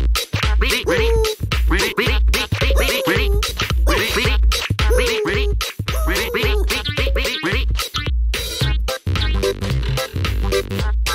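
Cartoon duck quacking in a beach-day children's animation, with repeated nasal quacks in quick bursts that carry loudly and closely through most of the stretch, shifting to scratchy rasping noises near the end.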